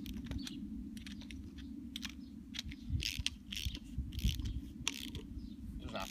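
Socket and adjustable spanner tightening a nut on a wheel of a Bull-X lure machine: quiet, irregular metallic ratcheting clicks and taps over a low steady hum, with no talking.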